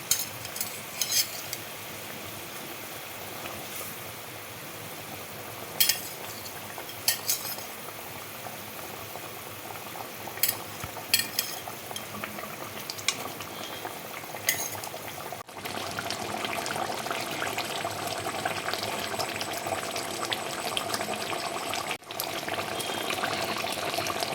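Katla fish simmering in a boiling mustard gravy, a steady close bubbling with occasional sharp clinks of a utensil against the pot and a fuller, more vigorous boil in the later part.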